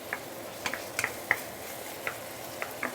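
Chili paste sautéing in vegetable oil over medium heat, a soft steady sizzle broken by scattered light clicks and scrapes of stirring, close and fairly quiet with no talk.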